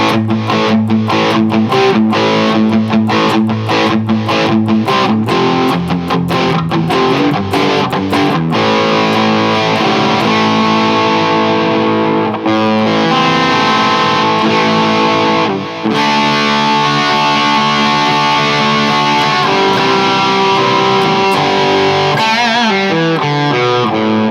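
Heavily distorted high-gain rhythm guitar from a Schecter Banshee 6 FR through an ENGL 520 preamp, with bright and mid boost engaged, chugging palm-muted riffs and sustained power chords that play loud and continuous with no talking.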